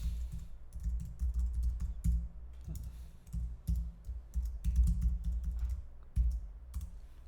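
Someone types login details on a computer keyboard, producing close, irregular bursts of key clicks with short pauses between them.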